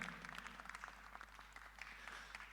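A crowd at a fight press conference applauds steadily, with dense, continuous clapping heard from a distance at low volume.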